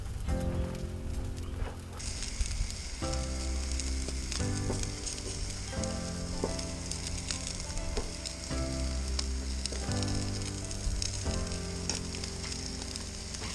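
Chopped onions sizzle in olive oil on a flat grill griddle, a steady frying hiss that runs beneath loud rhythmic music for most of the clip.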